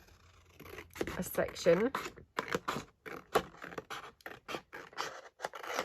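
Scissors snip through paper while a crafter trims a base piece for a bellyband pocket, a run of short close crisp cuts mixed in with steady talking.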